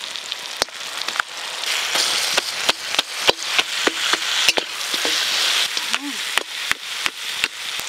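Fried fish heads hit a pan of spice masala with tomato, turmeric and coriander, setting off a loud, steady sizzle with sharp spatula clicks and scrapes at an uneven rhythm, close up.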